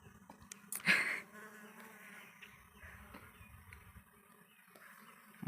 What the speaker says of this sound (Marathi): माश्या खूप आहेत मित्रांनो